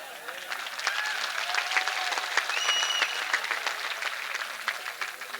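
Applause from a crowd at an election rally in Muria, Darbhanga, steady dense clapping over about five seconds, moderately loud with faint tonal sounds and possible voices mixed in.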